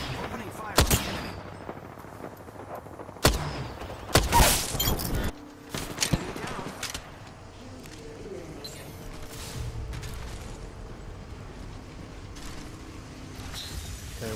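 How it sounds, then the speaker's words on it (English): Weapon fire in the battle royale Apex Legends: several loud, sharp bursts of shots early on, then quieter scattered shooting and mechanical clatter fading into softer distant combat noise. "Opening fire on the enemy."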